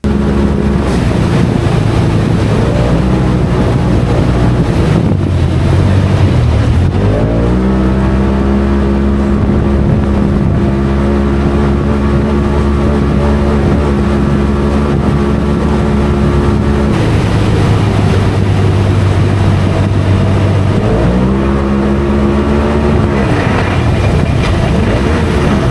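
An off-road race car prepared for King of the Hammers drives a desert test loop, its engine droning loud and steady throughout, with pitch rising and falling through shifts and throttle changes.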